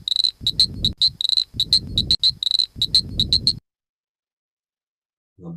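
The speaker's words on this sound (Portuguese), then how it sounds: "A Buana leptolineata." The frog Boana leptolineata calls in rapid high-pitched trilled bursts grouped into repeated phrases with a low pulsing beneath, close and loud, then stops into silence before a brief low sound at the end.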